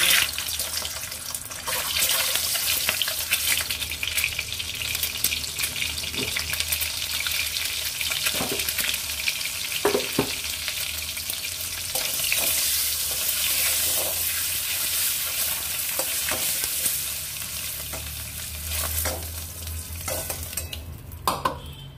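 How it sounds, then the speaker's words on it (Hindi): Eggs frying in hot mustard oil with salt and turmeric, giving a continuous close sizzle with intermittent scraping and stirring clicks and some watery crackle, steady throughout with no talk. "तेलटा गरम हये जावार पर डिमगुलो सामान्य लवण और हलुद दिए फ्राई करे नेब।"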